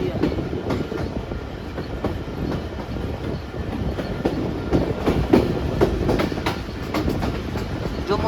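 The Pak Business Express rolls along the rails, its coaches giving a steady, loud rumble and a rhythmic clickety-clack of wheels over rail joints that carries on throughout.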